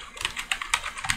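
Rapid typing on a computer keyboard while entering C++ code, a close, clicky run of uneven key taps with short pauses between bursts.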